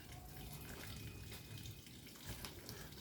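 Tap water runs steadily into a sink while food is washed for a home-cooked Sunday dinner, a continuous broadband splashing stream heard close and fairly loud throughout, with no talking.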